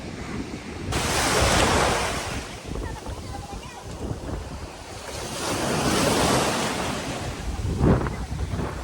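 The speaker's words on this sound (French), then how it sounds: "j'ai décidé d'aller à la plage et de profiter de Miami Beach" Ocean surf rolls onto the beach at Miami Beach, with wind buffeting the microphone, loud swells rising and falling in two broad surges and a sharp wave crash near the end.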